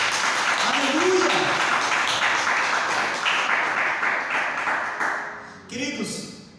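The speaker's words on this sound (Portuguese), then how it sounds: "Vamos dar uma salva de palmas a Jesus bem forte." A church congregation claps and applauds loudly, a dense wash of hand claps that swells and fades, with voices mixed in and a brief renewed burst near the end.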